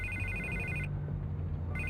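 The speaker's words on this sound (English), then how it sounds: "I can't get the phone to stop ringing." A telephone rings in a scene of Batman: The Telltale Series, a clean electronic trill in two bursts separated by a short gap, moderately loud over a low background hum with no talk.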